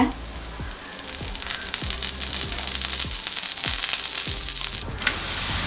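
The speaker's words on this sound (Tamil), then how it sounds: "கொஞ்ச நேரம் கம்மியான தீயில வச்சு வேக விடுங்க." A tapioca and moong dal dosa fries on low flame, giving a steady soft sizzle with a few scraping taps from a spatula spaced across the clip, close and alone.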